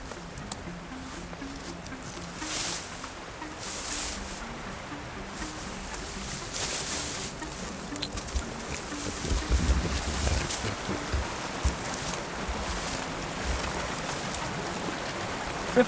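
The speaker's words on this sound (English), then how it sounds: "The water's going to make a lot of noise." Fast-moving stream water flows outdoors in the wild with a continuous, fairly soft rushing and pattering wash that swells gently in places and never stops.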